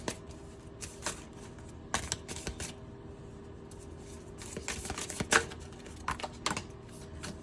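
Tarot cards are drawn from a pre-shuffled deck, making soft, close papery slides and light taps scattered through a quiet background, with no talking.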